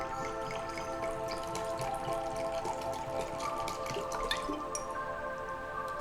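Ocean water trickles and drips into a bowl of crystals, a steady close-up patter of small droplets and light splashing with no talking.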